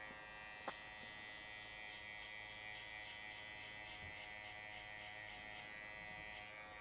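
Electric hair clipper with a number 1 guard cutting a mid fade in a barbershop, giving a steady close buzzing drone throughout with a faint brief tap near the start, with no talking.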